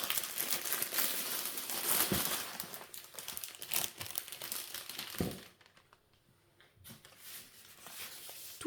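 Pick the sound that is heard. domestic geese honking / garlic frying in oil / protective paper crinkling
protective paper crinkling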